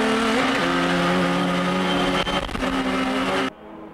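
A 280 hp naturally aspirated Honda Civic and a 400 hp turbo Nissan Silvia race at Ebisu, their engines making a loud sustained whine that shifts pitch with gear changes before cutting off abruptly near the end.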